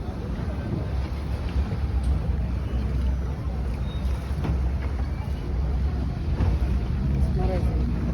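A gondola glides along a canal in Venice, with soft water lapping and wind rumble against the microphone, steady and close, while voices murmur faintly in the background.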